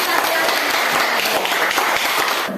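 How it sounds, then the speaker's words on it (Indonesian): Classroom applause from a group of students, a dense, steady wash of many hands clapping continuously for a couple of seconds, fairly loud and close. "Tepuk tangan."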